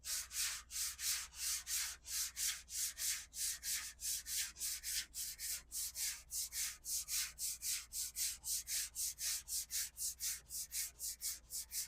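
Rhythmic back-and-forth sanding strokes with 180-grit sandpaper over guide coat on auto body filler, close and steady, a raspy scratch repeating about twice per second without pause.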